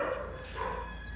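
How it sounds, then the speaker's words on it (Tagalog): A dog gives a short, fairly close bark or yelp, a single brief outburst standing alone without speech. "Maingay po yung aso, I'm so sorry for that."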